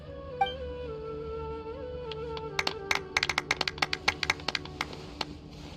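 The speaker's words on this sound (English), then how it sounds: "Let's give our champion Kaveh one last big round of applause." Applause at an award ceremony in the video game Genshin Impact: a scattered run of sharp claps and taps starts after a sustained musical tone and continues irregularly, moderately quiet.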